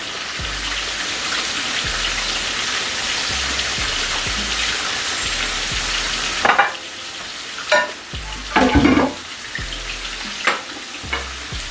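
Pork for pot roast sizzles on the fire in a pot, a steady crackling hiss at first, then several louder clattering stirs and knocks near the end.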